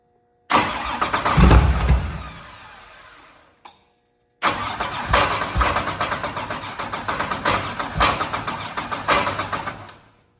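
Car engine cranked and fired: a first brief catch that dies away, a pause, then a second start that settles into a rough, pulsing idle, close by.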